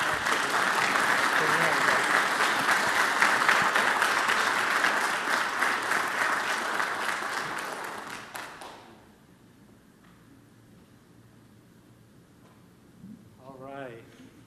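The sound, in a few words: audience applause at city council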